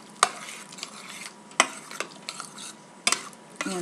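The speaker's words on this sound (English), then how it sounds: "Kind of stir in my shrimp a little bit." Shrimp stirred into hot butter and vegetable sauce in a pan, several sharp scraping clinks of a utensil against cookware over a soft continuous sizzle, close and fairly quiet.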